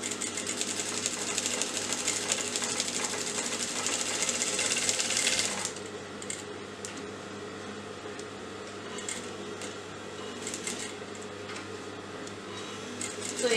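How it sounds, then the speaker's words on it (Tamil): A sewing machine stitches around canvas on a collar, a fast steady mechanical whir and patter up close for several seconds, then stopping to a low background hum with faint handling clicks. "கரெக்டாக அந்த கேன்வஸை ஒட்டி அதை சுற்றி நம்ம இப்போ இதை தைக்கிறோம்."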